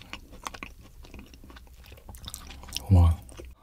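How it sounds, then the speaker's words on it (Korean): Raw live squid being chewed and eaten, with soft wet chewing under low murmuring voices and a brief louder thump near the end, close up. "제가 처음 잡은 오징어 같이 한번 먹어볼게요"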